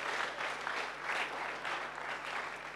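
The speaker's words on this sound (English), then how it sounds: "Let's clap our hands for her." A church congregation claps together for a returning former member, a brief, even burst of applause heard from within the room at moderate level.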